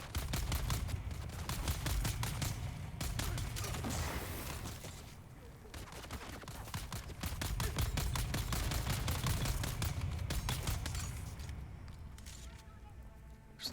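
Rapid gunfire from the sci-fi survival game Dune: Awakening crackles in dense automatic bursts that swell and fade across the stretch, loud and close, with a short lull in the middle and a voice talking in places.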